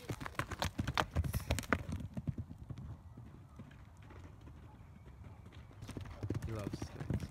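A horse walks with sharp, close clip-clopping hooves in an uneven rhythm while people talk nearby; the steps fade briefly mid-way, then return.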